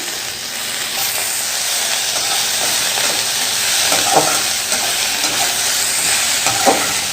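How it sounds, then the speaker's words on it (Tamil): Mint, tomatoes and coconut sautéing in hot oil in a pan for pudina chutney, a steady loud sizzle with occasional stirring scrapes throughout, no voices. "இப்போ புதினா தக்காளி எல்லாத்தையும் போட்டு ஒன்றா நல்லா வதக்கணும்."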